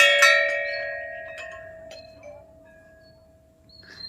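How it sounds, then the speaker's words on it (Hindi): A single temple bell rings out near the start, its clear metallic tone sustaining and slowly fading, with a few lighter clinks and a soft chime near the end. "घंटी तो बजा दो उन्हें।"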